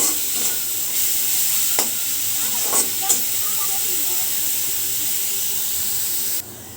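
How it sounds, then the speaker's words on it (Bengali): Grated garlic and onion fry in mustard oil for a boal fish bhuna: a loud, steady close-up sizzle with a few scraping stirs, and the hiss dips at the end. "এখন রসুন আর পেঁয়াজ গ্রেট করে রাখা রসুন পেঁয়াজ দিয়ে দিলাম, একটু ভেজে নিব।"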